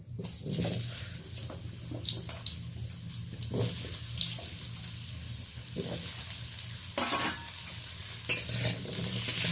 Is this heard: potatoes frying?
yes